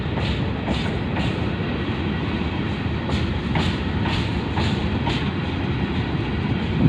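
A long passenger train rolls past steadily at Bahawalpur railway station in Pakistan, with rhythmic clickety-clack of wheels over rail joints and a constant rumbling roar.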